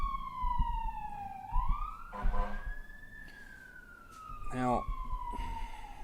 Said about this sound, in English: these goddamn sirens